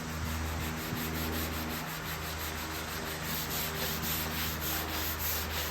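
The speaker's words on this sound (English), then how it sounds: "And then I just sanded it through the grits again" Sanding wood on a dresser during restoration, a continuous close, even scratchy rubbing that holds steady throughout, with no voices.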